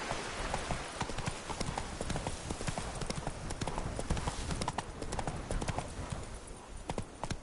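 Roach the horse galloping in Witcher 3: Blood and Wine, a steady rapid clip-clop of hooves running continuously and fairly close throughout.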